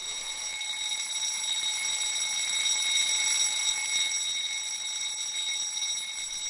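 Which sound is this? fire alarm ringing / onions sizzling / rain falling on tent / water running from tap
fire alarm ringing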